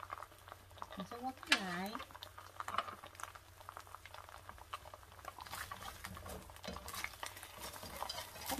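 A steamer pot bubbles softly while banh cuon rice rolls are steamed, a faint, steady patter and simmer heard under someone speaking.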